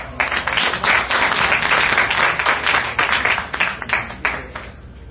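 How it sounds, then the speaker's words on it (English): An audience at a Toastmasters certificate ceremony claps for the champions, a dense, fairly loud burst of many hands that holds steady for several seconds before thinning toward the end. "Another big round of applause."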